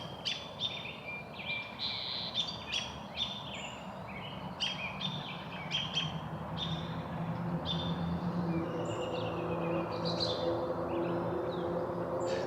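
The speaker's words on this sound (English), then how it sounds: "the birds." Birds singing along the Rock Creek Trail in Orenco Woods Nature Park, Hillsboro, Oregon: repeated chirps and trills at moderate distance over a steady low outdoor rumble.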